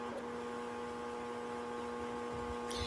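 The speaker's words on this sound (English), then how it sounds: "It's the fan, and it's not my PlayStation fan, although it does kind of sound like that in the summer." A room fan hums steadily and faintly indoors, a constant low drone with no other sounds on top.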